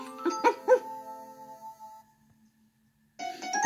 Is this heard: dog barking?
yes